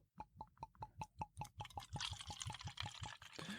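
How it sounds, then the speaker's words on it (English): Very Old Barton whiskey glugs out of a bottle in a quick rhythmic series of hollow gulps, close and fairly quiet, ending in a smoother splashing pour into a cheap plastic glass. "I like this bottle because it makes fun pouring noises."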